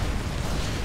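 Bombing-run explosions in the video game Supreme Commander 2, a continuous loud rumbling barrage of blasts that fills the whole moment with no clear gaps.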